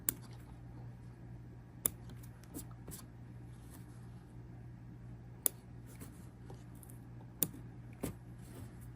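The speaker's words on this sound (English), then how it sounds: "And I will trim these threads." Scissors trimming embroidery threads, a handful of sharp isolated snips spaced irregularly over a quiet background hum.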